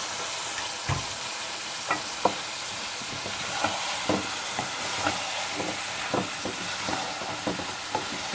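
Potato, peas and cauliflower sabzi stirred in a frying pan, steady sizzle with repeated spoon scrapes and taps against the pan, close and moderate in loudness, no talking.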